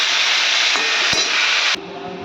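Vegetables with chilli are stir-fried in a pan, giving a loud, steady sizzle with a sharp utensil knock, then the sizzle drops abruptly to a quieter hiss.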